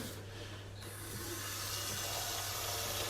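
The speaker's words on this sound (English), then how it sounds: "So we're just gonna pour cold water into it, nice and slow, to cool it down." Cold tap water pours steadily into a pot of rice, a continuous hissing splash that grows slightly fuller and louder as the flow continues, with no talking.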